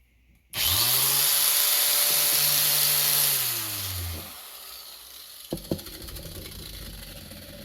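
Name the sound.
power tool removing rust from wheelbarrow legs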